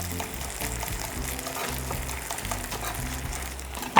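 Tofu for a bánh mì frying over medium heat in a thickening sauce with green onions, giving a steady, moderately loud bubbling sizzle that runs throughout, with a brief clack right at the end.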